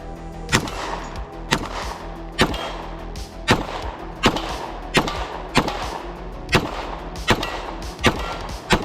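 A Beretta 92 pistol fitted with a GG92 compensator fires about ten loud shots at a steady, roughly once-per-second pace, each a sharp close blast over outdoor background noise.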